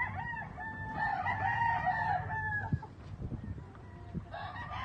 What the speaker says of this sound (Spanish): Aquí en esta traigo otro gallo de los Clemens